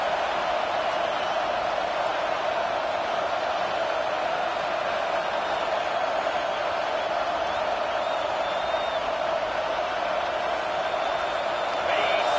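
An NCAA college football stadium crowd in a game against Auburn keeps up a loud, steady roar of cheering for the defense, sustained without a break across the whole stretch.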